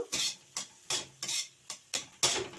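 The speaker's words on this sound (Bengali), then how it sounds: "দিয়ে একটু নেড়ে মাখিয়ে দেবে নাড়াচাড়া করতে হবে একটু" Salt being stirred and mixed into fish pieces in a pan while making a coriander-leaf fish curry, seven distinct scraping strokes in an even rhythm, close and moderately loud, with no one talking.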